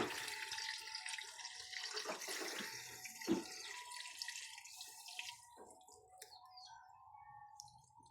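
Coconut milk pours into a pot of cooking native chicken, a soft continuous liquid pour and splash that gradually fades, quiet and close, with no talk.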